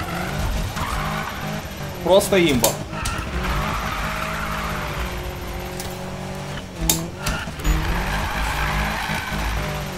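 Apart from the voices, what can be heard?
BMW M3 E30 drifting tire squeal, Need for Speed video game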